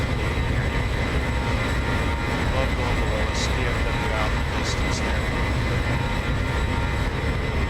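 Outside jet engine roar of a Boeing 737-800 in X-Plane 11, departing Dallas Love Field, holds a steady loud drone while a voice talks over it with brief radio-style chatter.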